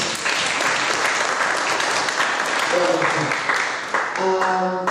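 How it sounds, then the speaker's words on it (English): Sustained audience applause after a moot court competition's final oral round, dense steady clapping throughout with a voice briefly emerging near the end. "another round of applause"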